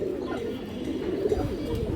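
A Chinese khaki female pigeon at a pigeon farm coos in low, throaty, repeated pulses, close and continuous, over faint background noise.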